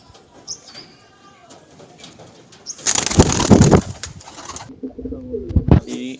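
Close pigeon coos, then a loud burst of wings flapping for about a second, followed by more low cooing.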